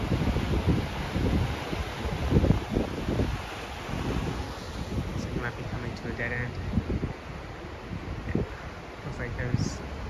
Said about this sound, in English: Nothing like the sounds of the ocean.